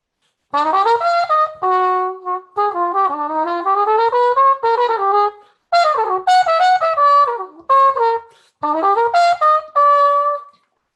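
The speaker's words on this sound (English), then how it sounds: "He was playing a cup mute." A trumpet with a cup mute plays a series of short melodic phrases, soft-edged and slightly muffled, separated by brief pauses, alone and close.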